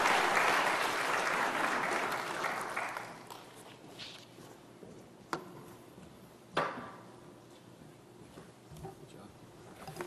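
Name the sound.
conference audience applause for a speaker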